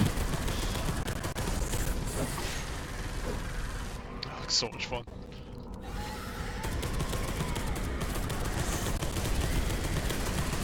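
Assault cannon firing in Space Hulk Deathwing, a rapid, dense stream of heavy gunfire rattling continuously across the whole stretch, with a brief dip midway, while a player speaks over it.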